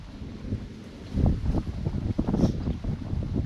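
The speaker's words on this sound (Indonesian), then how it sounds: "nah, angin dia." Wind gusts buffet the microphone on a boat while fishing for mullet, rumbling in uneven bursts with a faint watery wash beneath.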